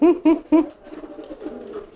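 Three short, throaty coos from a racing pigeon come in quick succession, followed by softer low cooing murmurs close by.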